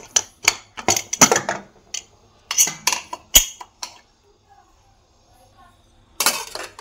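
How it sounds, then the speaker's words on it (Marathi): Lid of a cooled pressure cooker being unlocked and lifted, a series of sharp metallic clanks and scrapes in bursts, then a pause and one last clatter. "कुकर थंड झालेला आहे. आता आपण झाकण खोलून बघूया."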